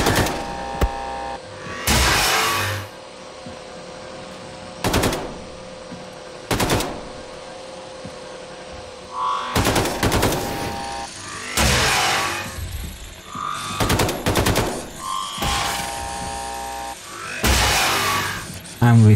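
Machine gun fire in the video game Wolfenstein 2 comes in repeated loud bursts of rapid shots, a few seconds apart, with a low hum between the bursts.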